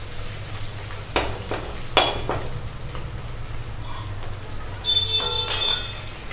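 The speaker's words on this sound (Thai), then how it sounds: "Paneer can fry 4 to 5 minutes." Paneer frying in a pan, a steady close sizzle running throughout with a few sharp clinks and scrapes of utensils against the pan, no voices.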